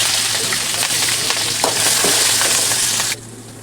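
Mustard seeds, cumin, crushed green chilli and garlic hit hot oil in a kadai, giving a loud, dense, continuous sizzle with small crackles that drops off sharply near the end.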